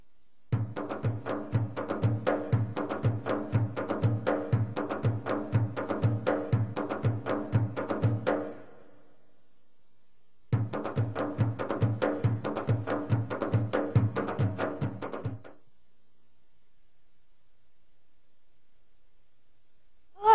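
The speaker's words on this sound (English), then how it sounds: "the percussions bendir and davul are used to sound like this." Steady davul beats with a deep thudding pulse and bendir frame-drum hits under a reedy zurna melody, Turkish belly dance music, playing in two long bursts separated by a short silence.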